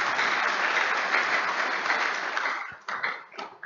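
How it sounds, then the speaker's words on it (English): A crowd at an anniversary service claps in dense, even applause that thins out toward the end into a few scattered claps. "Please give him a round of applause."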